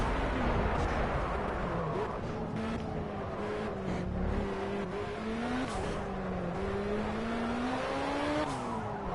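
A race car in Project CARS drives continuously, its engine note rising and falling through gear changes and corners, with some tire noise, loud and close throughout.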